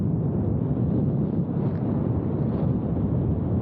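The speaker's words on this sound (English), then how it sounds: "Windy like hell." Strong wind buffets the microphone in a steady, loud low roar on an exposed platform while riding a Onewheel Pint electric board, continuing throughout without a break.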